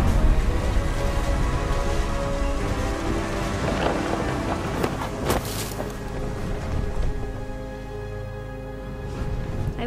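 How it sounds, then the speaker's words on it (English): Stormy weather in the video game What Remains of Edith Finch: steady rain with rumbling thunder, a loud crack midway, continuous and close throughout. "The thunder sounded much too close and full of angry power."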